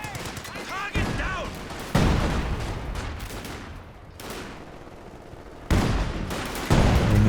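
Artillery barrage in the WWII strategy game Company of Heroes 2, heavy repeated blasts and rumbling explosions arriving in several loud bursts over about seven seconds, with a voice talking quietly underneath.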